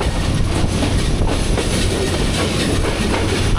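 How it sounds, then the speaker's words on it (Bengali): Train rolling along the rails in Bangladesh, heard from inside the carriage: a loud, dense, continuous rumble with steady clickety-clack rattle and a faint edge of wheel squeal, no talk. "উই আর ইন ট্রেন, আমরা ট্রেনের মধ্যে রয়েছি।"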